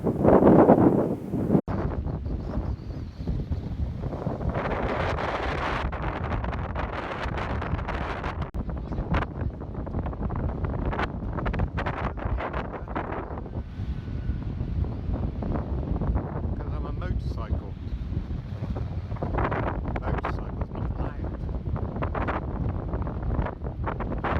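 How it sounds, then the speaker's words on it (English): Strong wind buffets the microphone continuously on Brean Beach, a loud rumbling roar with gusty surges throughout. "It's windy."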